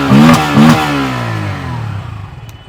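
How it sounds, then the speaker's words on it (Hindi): Bajaj Pulsar 160cc motorcycle engine blipped twice on the throttle, loud rising revs that fall back into a steady, fading idle. "थोड़ा सा थ्रॉटल देता हूँ।"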